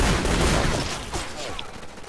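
Heavy weapons firing in a shooter video game, dense bursts of gunfire rolling one into the next across the moment, loud and close, with a little talk mixed underneath.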